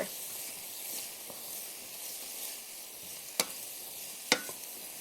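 Onions and peppers sizzling in a pan for gluten-free taco filling, a steady bright hiss of frying broken by a few sharp scrapes and clacks of a utensil stirring, close and continuous with no talking.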